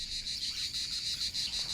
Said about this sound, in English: the cicadas begin to sing at dawn when the sun strikes the trees